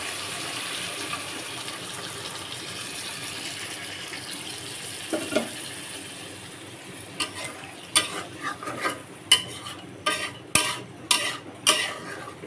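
Chicken fries and is stirred in a pan for a mild chicken curry made without chili. A soft, steady sizzle runs throughout, then a regular series of spoon scrapes and clacks comes near the end, with no one talking.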